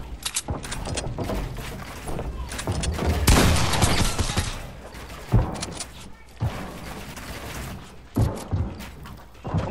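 Rapid bursts of gunfire in a shooter video game, loud sharp volleys recurring through the span with mechanical clatter between, under a player's excited talk.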